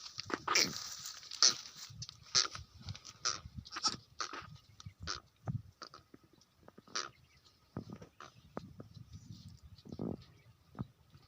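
Goats bleat repeatedly in an outdoor setting in the Thar desert of Sindh, Pakistan, with several close, sharp calls coming in irregular bursts over quiet rustling and patter.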